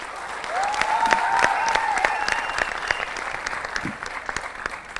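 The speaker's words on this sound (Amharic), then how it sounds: "ሞቅ ያለ ጭብጨባ ባካችሁ" Steady applause from a crowd at a student quiz competition, many hands clapping together, with a whistle-like tone briefly sliding over it early on.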